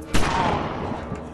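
Gunfire in the sci-fi video game Greyhill Incident, a dense burst of shots starting sharply and continuing as a steady barrage, with a player's voice reacting over it.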